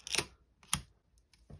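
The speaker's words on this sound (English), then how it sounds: "so we can actually fire the shutter" Canon AE-1 Program SLR camera shutter firing up close, a couple of sharp mechanical clacks followed by faint clicks of the film advance, quiet and isolated.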